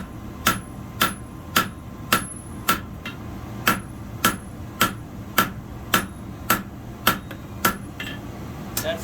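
Hammer beating knife steel on the horn of an anvil for a small hunting knife, about seventeen bright ringing strikes at a steady, even pace, close and clear with no voices.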